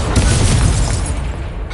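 Incendio fire spell cast in a Hogwarts video game: a loud, deep whooshing boom of flame bursting close, sustained for under two seconds.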